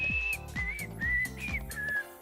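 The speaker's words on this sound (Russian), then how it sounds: "Я буду свистеть, а ты угадаешь мелодию." Someone whistles a bouncy melody in short repeated phrases, close up, over a rhythmic thumping beat, during a melody-guessing game on a talk show.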